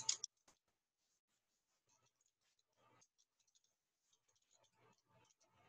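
Light, sparse typing taps on a computer keyboard, with a sharper click at the start and then scattered soft keystrokes in short bursts. The sounds are quiet and close, with no talking.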